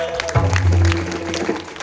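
Audience clapping at a devotional kirtan gathering, a short burst of applause mixed with loud sustained tones from the sound system and a voice talking through it.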